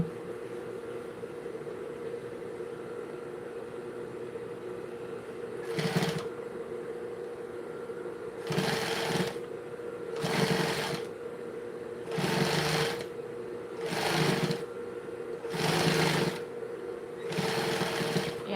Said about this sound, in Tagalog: Maingay ba Ricky yung tulog ng makina ko?